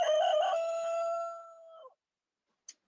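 A single rooster crow as a sound effect, a loud clear cock-a-doodle-doo held for almost two seconds before cutting off, followed by a brief faint click.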